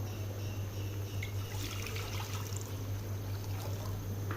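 About three and a half litres of water pour steadily into a cooking pot for kadhi, a continuous soft splashing stream over a low kitchen hum.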